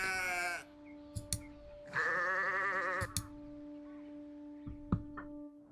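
Sheep in Orwell's Animal Farm video game let out two long, wavering bleats a second apart, with a steady droning musical tone underneath and a few soft clicks between calls.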